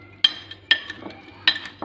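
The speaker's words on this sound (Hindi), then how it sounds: "इसको अच्छी तरह मिक्स कर लेते हैं" Pasta cream salad being mixed in a bowl with a utensil: a few sharp clinks and scrapes against the dish, spaced irregularly, close and fairly quiet with no talking.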